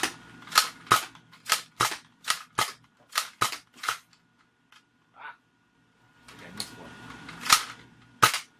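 Adventure Force Destroyer toy blaster fired in a quick series of sharp snapping shots, about a dozen close, loud cracks in two bursts separated by a brief pause, with no talking.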